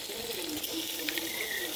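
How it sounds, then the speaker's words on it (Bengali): Beef pieces go into hot spices in a pan, giving a steady hissing sizzle throughout with small crackling bursts, close and moderately loud, with no talk. "তো আমি দিয়ে দিলাম মাংসগুলো"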